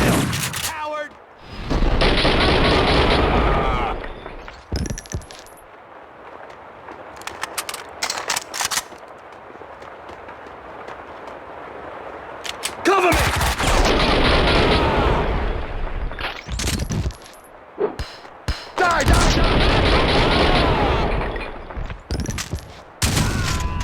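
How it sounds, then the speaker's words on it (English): Heavy automatic gunfire and explosions in the video game Max Payne 2 come in long, loud bursts separated by quieter stretches, with game dialogue and shouting heard between the volleys. "Shoot to kill!"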